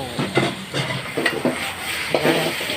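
Chicken noodles being stir-fried in a pan, with a close, steady sizzle broken by repeated scraping and clanking strokes of a utensil against the metal at an uneven rhythm.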